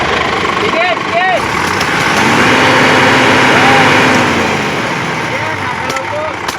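An Isuzu 6WG1 diesel truck engine with a turbo runs loud and close, its steady roar swelling in the middle as the engine revs, with a voice talking over it.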